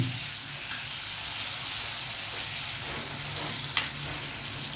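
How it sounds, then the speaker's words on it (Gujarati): Potatoes frying in a pan for a Gujarati potato curry give a steady, close sizzling hiss throughout, with a brief sharper crackle near the end and no voices. "હવે આનો થોડુંક ફ્રાય થાય ને"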